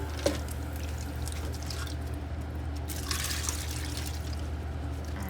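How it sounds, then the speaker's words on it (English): Water is poured softly over a coffee filter while an airpot is being prepared, giving a quiet, steady trickle with a small drip near the start over a low background hum. "So just pour the water on real softly, wet your filter, make sure it's stuck to all the sides."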